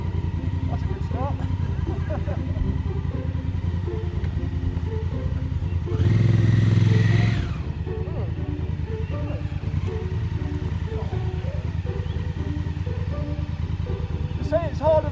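A Honda Africa Twin motorcycle engine idles and putters under throttle-only control with no clutch, a steady low rumble that rises in one brief rev, with someone talking over it.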